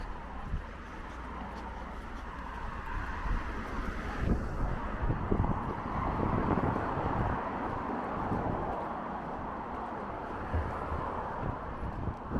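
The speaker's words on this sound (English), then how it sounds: "Today though is particularly windy" Strong gusts of wind buffet the microphone on a Norfolk coast path between Hopton-on-Sea and Herring Bridge, roaring and rumbling continuously and swelling louder midway.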